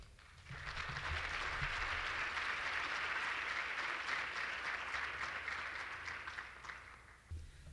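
Audience applause welcoming two speakers at a Dwolla talk, a steady broadband wash of clapping that starts suddenly, holds for about seven seconds and then tapers off.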